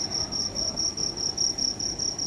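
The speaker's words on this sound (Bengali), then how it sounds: "অনেক দিন পর আমাদের এখানে এই ঝিঝি পোকার ডাকটা শুনতে পেলাম।" Crickets chirp outdoors in a steady, high-pitched pulsing trill that repeats evenly through the whole short stretch, with a faint low background beneath and no voices.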